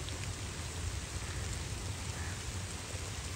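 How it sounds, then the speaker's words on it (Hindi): Heavy rain pours outdoors in a steady, dense hiss, a continuous wash of drops falling with no pauses, fairly faint and without voices. "बारिश शुरू हो गई है"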